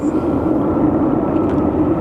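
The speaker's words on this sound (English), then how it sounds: "I believe we have a United plane coming our way." An airplane at Sky Harbor Airport produces a loud, steady engine roar with a deep rumble that holds unchanged throughout.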